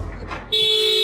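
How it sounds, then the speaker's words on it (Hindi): A car horn gives one sudden, steady, loud blast that starts halfway through and holds to the end, after a moment of muffled background sound. "क्यों हॉर्न बजा रहा है?"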